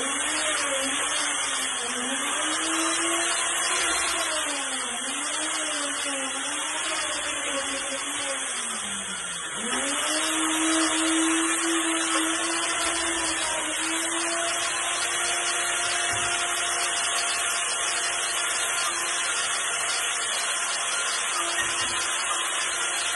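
Food processor blending salsa verde, a steady loud motor whir running throughout with shifting pitch as the blades work the herbs, a brief dip midway before it surges on again, no voices.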